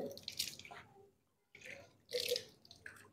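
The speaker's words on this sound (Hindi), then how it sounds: "सीधे हाथ को धोया, अब लेफ्ट हैंड को धो रहा हूं मैं" Water drips and splashes in short, faint bursts with a quiet gap between them as a left hand is washed during ablution. No one speaks.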